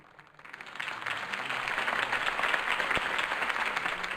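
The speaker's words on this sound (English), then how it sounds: "could have heard that applause" A campaign-rally crowd in the Batman Telltale video game breaks into applause after Harvey Dent's speech, swelling from quiet into a dense, sustained wash of clapping with a distant crowd feel.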